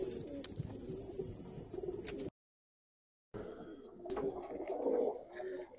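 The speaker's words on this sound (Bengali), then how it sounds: "অনেক পুরান ব্লাডের কবুতর।" Old-bloodline Giribaz pigeons at a farm in Old Dhaka coo softly and repeatedly, low and close, with brief bird calls around them and a short gap of silence partway through.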